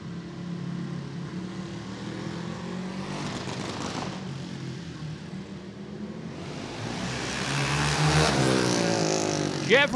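A race car runs a qualifying lap at the Union County Fair & Expo Center dirt track in Sturgis, Kentucky, its engine droning steadily and swelling louder toward the end as it passes close, with crowd and track noise underneath.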